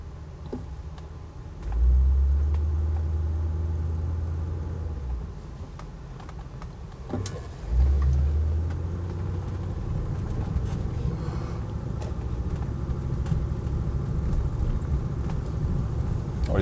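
A 1986 Rolls-Royce Silver Spirit saloon on the move, a smooth low engine rumble that swells twice with acceleration before settling into a steady cruising drone, with no voices.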